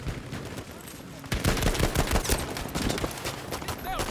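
Gunfire from the video game Battlefield V: automatic weapon bursts start after a quiet opening and continue rapidly as dense, loud rattling shots.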